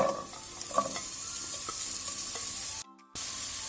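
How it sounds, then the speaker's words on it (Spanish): Carrot tossed into a frying pan with no added oil, a bright close sizzle with scattered stirring clicks, cutting out briefly before the hiss resumes. "Y sin agregar más aceite vamos a incorporar la zanahoria"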